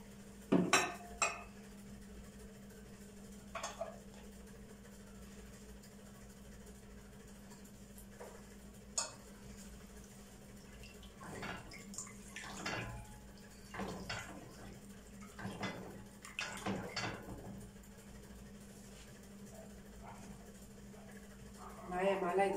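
A spoon stirs sugar in a pot of milk and cream for ashoura, giving sparse, faint metallic clinks and scrapes over a low steady hum, with quiet gaps between strokes.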